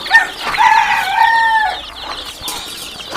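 Several chickens, including chicks, cluck and call close by at a free-range poultry farm, with one drawn-out crowing-like call in the middle and softer clucks trailing off.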